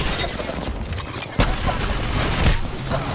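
Gunfire hitting the player in a team shooter video game, a dense, noisy barrage with a sharp crack partway through and continuous rumbling action around it.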